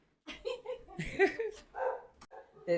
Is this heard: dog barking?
yes